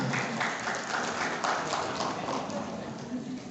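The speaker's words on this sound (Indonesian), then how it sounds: "Sekali lagi tepuk tangan untuk Ibu Husnul Khotimah." Seminar audience applause for a speaker, a dense, even patter of many hands clapping, faint and somewhat distant, sustained throughout with no voices.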